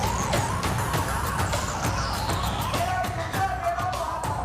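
Ambulance siren wailing through heavy street traffic at a farmers' protest blockade on a Delhi border road, its rising and falling tone continuous and fairly close over dense engine rumble and horns.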